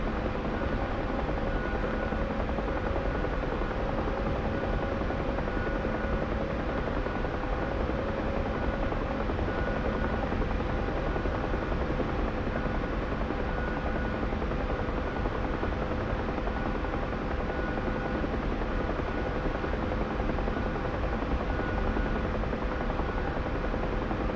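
A UH-1H Huey helicopter in a flight simulator game, flying heavy at cruise speed, its rotor and turbine producing a loud, constant, dense drone with a steady whine that runs unbroken throughout.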